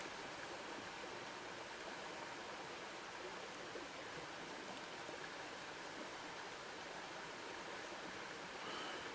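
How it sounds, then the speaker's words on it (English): A stream of quiet trickling water outdoors, a soft continuous wash heard from nearby, with faint distant traffic hum underneath and no voices. "Just a quiet trickling waters."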